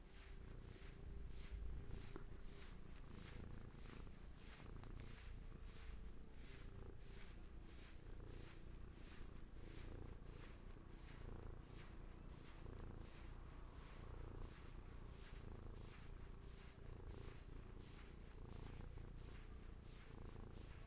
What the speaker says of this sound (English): Let Hattie's purrs bring you back.